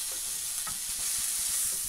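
Beef burger mince frying in a cheap new frying pan, a steady loud sizzle with faint stirring scrapes underneath, no talking.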